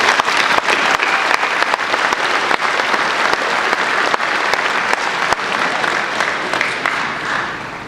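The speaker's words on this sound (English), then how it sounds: "Can we have a quick round of applause for all the family members here?" A graduation crowd gives a sustained round of applause for the family members present, loud dense clapping that holds steady before tapering off near the end.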